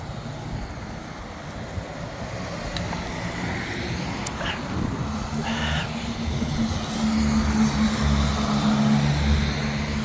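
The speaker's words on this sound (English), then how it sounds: "Look how fast the cars come here." Fast cars rush past on a street in Fatima, Portugal, a steady traffic roar with swelling passes and a louder rise near the end, wind buffeting the microphone throughout.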